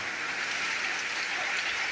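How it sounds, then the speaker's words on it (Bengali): Steady rain falls under an overcast, cloud-filled sky, a continuous even hiss of drops with no pauses and no voices. "কি সুন্দর বৃষ্টি আর বৃষ্টি রোমান্টিক বৃষ্টি হচ্ছে"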